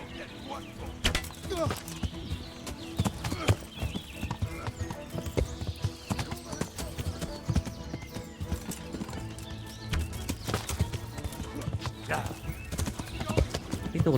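Horse hooves clip-clopping steadily in the medieval video game Kingdom Come: Deliverance, a dense continuous patter of hoofbeats with occasional whinnies and game sound, while someone talks over it throughout.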